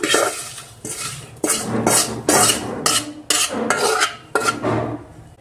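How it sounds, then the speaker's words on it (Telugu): A spatula scrapes and knocks against a pan while rice dish (pulihora with lemon) is mixed, giving about eight distinct clattering strokes in an uneven rhythm, close and fairly loud, with no talking. "ఇప్పుడు గెండితో కలుపుకున్నాము ఒకసారి"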